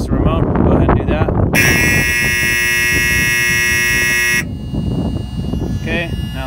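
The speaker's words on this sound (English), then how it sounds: "This honks the horn and connects the remote." A loud, steady electronic horn on a Potain crane remote blares for about three seconds, with people talking before and after it.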